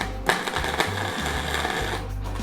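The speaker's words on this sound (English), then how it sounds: "So let's go ahead and put a weld on this thing." Arc welding on steel for a homemade gym weight plate tree, a steady close buzzing crackle with a low electrical hum running throughout.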